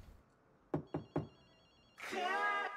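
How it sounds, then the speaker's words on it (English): A payphone rings in the video game Ghostwire Tokyo with three quick, bright bell bursts in steady succession, followed by a louder, rougher passage with a voice. "One of the phone stalls is ringing."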